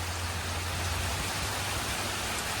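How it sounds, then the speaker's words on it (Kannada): Heavy rain pours down in Madikeri, a steady, dense wash of rainfall that holds at an even loudness throughout with no voices. "ಧಾರಾಕಾರ ಮಳೆ ಮಡಿಕೇರಿಯಲ್ಲಿ."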